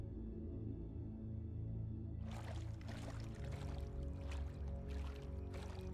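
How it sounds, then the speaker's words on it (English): Character sloshing through water in the medieval game Medieval Dynasty, soft splashing steps that start after a quiet ambient stretch and continue rhythmically over a low steady background hum. "Oh, it's a beautiful sound, just sloshing through water."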